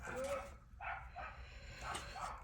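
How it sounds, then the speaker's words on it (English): A small chihuahua dog barks in short yips and bursts in a home, a few quick barks spread across the moment, fairly faint and set against a quiet room. "If you hear my dog, I'm so sorry. He barks all the time. Little chihuahua."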